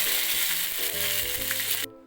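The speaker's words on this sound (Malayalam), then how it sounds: "ചട്ടി ചൂടായതിന് ശേഷം അതിലേക്ക് എണ്ണ ഒഴിച്ച് കടുക് ഇട്ട് കൊടുക്കുക കടുക് പൊട്ടിയ ശേഷം" Mustard seeds splutter and crackle in hot oil in a pan for a jackfruit curry, a steady close sizzle with bright popping throughout that cuts off abruptly near the end.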